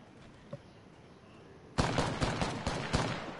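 Rapid gunfire bursts from Apex Legends start suddenly after a quiet stretch, with several sharp, loud cracks in quick succession and no voices over them.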